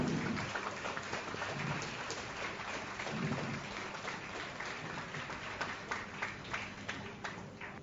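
Audience applause at an evening forum, a thick patter of many hands clapping, fairly faint and sustained, with scattered louder claps toward the end.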